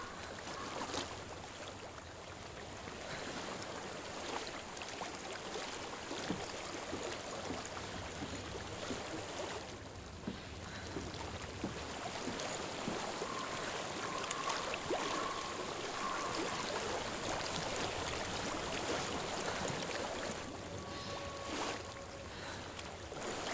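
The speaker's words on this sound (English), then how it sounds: "I hear water." Steady flowing water with a soft wind-like wash runs through a quiet natural setting in the video game Hellblade: Senua's Sacrifice, continuous and moderately close, with a faint tonal sound joining near the end.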